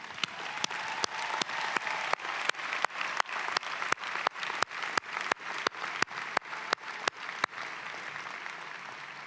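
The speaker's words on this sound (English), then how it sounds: "let's take a moment and give a big round of applause for those celebrating tomorrow." A commencement crowd gives a sustained round of applause, thick and continuous, with a sharp, regular clap or beat punching through roughly every third of a second before fading near the end.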